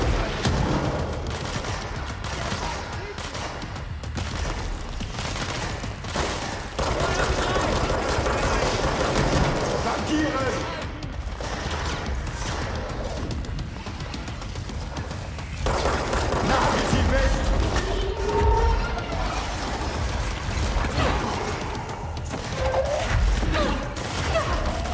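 Dense, continuous gunfire and impacts in the action game Control: rapid shots, booms and crashing debris blend into a chaotic wall of noise running the whole time, with occasional speech mixed in.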